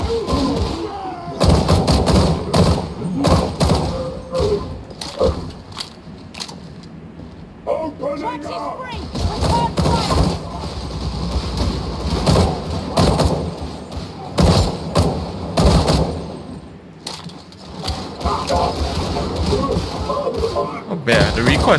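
Gunfire from a rifle in Warhammer 40,000: Darktide, with repeated sharp shots and impacts in irregular bursts across the whole stretch, loud and close, under steady conversation between players.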